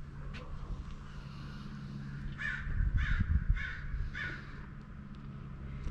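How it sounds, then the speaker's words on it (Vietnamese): Black crows caw outdoors in a quiet residential neighborhood in Irvine, a series of four or five harsh calls in a loose rhythm, moderately distant over steady low background hum. "Mấy con này là mấy con quạ đen á."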